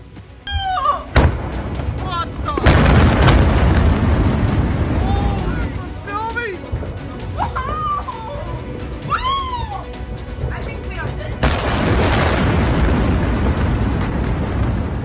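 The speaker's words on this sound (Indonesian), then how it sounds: "Ledakan terjadi 2 kali dalam jeda waktu yang berdekatan" Two loud Oreshnik missile blasts in Tel Aviv roar in about ten seconds apart, broad rumbling bursts, with high shrill cries and voices between them.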